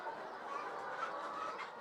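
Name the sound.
free-range chickens clucking in a shed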